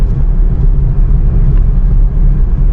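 A car driven in fourth gear on city roads gives a loud, steady low engine and road rumble from inside the cabin, with no talking.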